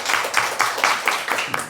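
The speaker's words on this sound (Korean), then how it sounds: "주님 앞에 영광의 박수 드리겠습니다" A church congregation claps together in a steady, brisk rhythm during a Sunday worship service, the evenly spaced claps sounding close and fairly loud.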